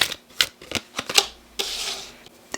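Tarot cards being shuffled and tapped, a series of separate sharp snaps and slaps at uneven intervals, followed by a longer soft papery riffle near the end, close and fairly loud.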